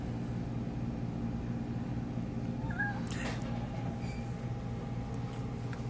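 A cat gives a couple of soft, short meows midway through, over a steady mechanical hum from a twin-tub washing machine's spin motor that runs throughout.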